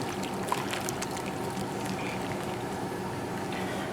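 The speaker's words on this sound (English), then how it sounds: "You just want to give it a stir" Homemade laundry soap cooks on high heat in a pot, a continuous close bubbling, foaming churn with faint stirring sounds, steady throughout.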